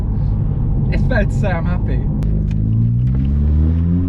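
A Volkswagen Scirocco with a new sports cat exhaust rumbles loudly from inside the car, its engine note climbing as it accelerates, while someone speaks over it briefly at the start.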